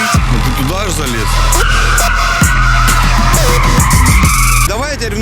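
Large SUV, a Tahoe, drifting sideways with tires squealing and skidding in long wavering screeches over a roaring engine, loud and close, with voices talking over it.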